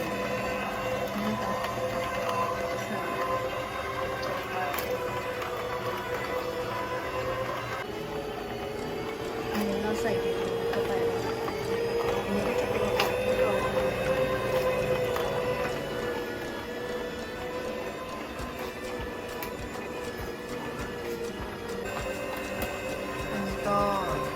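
A Tefal cold-pressed juicer running after its start button is pressed for hard-skinned fruit, a steady droning motor hum with squeaking, creaking tones as the auger turns, continuous throughout.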